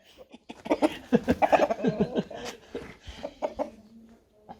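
An old hen clucks in a farmyard in Posavina, a run of short, close, irregular clucks and murmuring calls that thin out toward the end.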